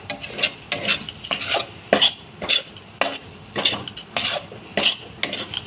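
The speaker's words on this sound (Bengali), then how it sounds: "ডিমটা দিয়ে খুব ভালো করে নাড়বেন যাতে ডিমটা দলা দলা হয়ে না যায়" A spoon stirs beaten egg into a stuffing mixture for stuffed pointed gourd curry, scraping and clinking against a metal bowl in quick, repeated close strokes, with no talk over it.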